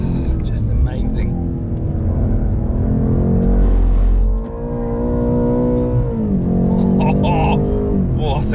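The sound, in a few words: BMW M8 car driving around Silverstone track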